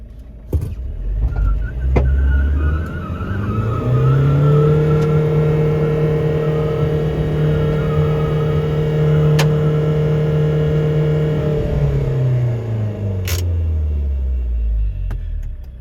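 Two car engines rev hard in a car tug of war, holding a loud, sustained roar for several seconds before winding down, with a few sharp knocks and bangs.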